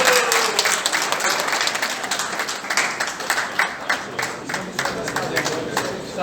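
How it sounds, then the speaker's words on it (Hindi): Loud, sustained audience applause at an awards ceremony honouring Durga Puja committees in Jamshedpur, Jharkhand, India, with dense clapping throughout and voices mixed into the crowd noise. "जोर से तालियां बजनी चाहिए।"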